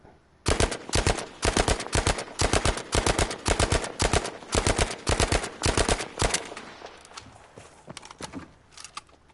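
Rapid gunfire in the video game Battlefield 5: a sustained burst of loud, evenly spaced shots, followed by scattered quieter shots and game noise.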